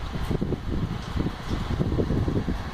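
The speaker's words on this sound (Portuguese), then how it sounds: "Tá mandando vento." A bladeless fan running at its maximum setting pushes out a steady, airy whoosh close up, with soft gusty pulses and no talking.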